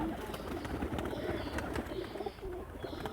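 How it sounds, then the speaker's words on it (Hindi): Pigeons in a loft, a steady low murmur of cooing and soft bird calls close by, continuous with light rustling and no talk. "ये ऊपर बैठे हैं कबूतर कुछ।"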